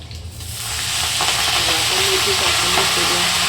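Fenugreek leaves sizzling in a hot pan, a dense, close frying hiss that swells in within the first second and then holds steady, with faint stirring clicks and no talking.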